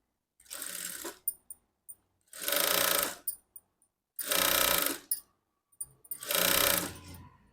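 Sewing machine stitching a blouse hem, running in four separate bursts of steady whirring with brief clicks and pauses between them, close and fairly loud with no voices.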